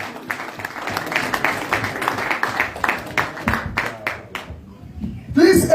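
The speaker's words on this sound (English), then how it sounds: "Please, a round of applause again" Applause from an audience at an address honoring a former governor of Edo State, a dense patter of clapping over about five seconds that thins out near the end as a voice returns.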